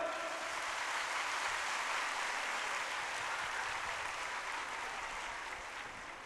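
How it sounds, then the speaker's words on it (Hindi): Women in the audience clapping loudly at a Bhagwat Katha gathering, a dense continuous wash of applause, fairly distant and soft, tapering slightly at the end. "एक बार माताएं जोरदार तालियां हो जाए।"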